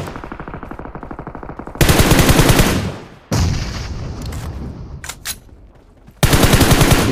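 DP machine gun firing in PUBG Mobile, loud rapid automatic bursts close up, several long volleys separated by pauses with echoing reports and scattered single shots.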